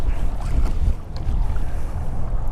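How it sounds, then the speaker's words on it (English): Strong wind of about 20 to 30 miles per hour buffets the microphone out on the water in a Pelican Catch 120 kayak, a loud continuous roar with gusting swells and no pauses. "Way too windy."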